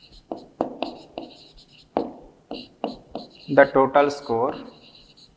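The total score is written on a board with a series of quick, scratchy strokes in short bursts, while a person speaks over the writing.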